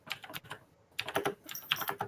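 Typing on a computer keyboard during an online tabletop role-playing session. Two quick bursts of close, clattering keystrokes are separated by a short pause, with no voices.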